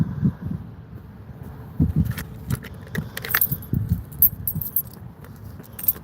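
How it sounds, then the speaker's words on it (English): Keys jangling and clinking up close while a car door is unlocked, a steady rattling with a few sharper metallic chinks, no voices over it. "me unlock the door."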